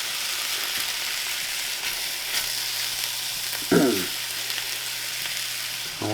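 Ribeye steak and onions sizzle steadily in a pan while being stirred, with one louder scrape and clatter partway through, close and continuous with no talking.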